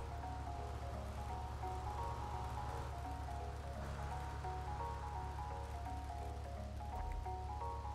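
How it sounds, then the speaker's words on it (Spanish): Steady rain in GTA Vice City, a soft continuous hiss and patter running throughout alongside faint low background music tones. "ya está lloviendo."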